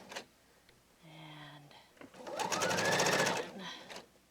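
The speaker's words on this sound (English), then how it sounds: "sewing through the folded edge, all 4 layers" Sewing machine stitching through four folded layers of parasol cover fabric, a short whirring burst, a pause, then a longer louder run of rapid stitching that winds down, heard close with faint handling noises around it.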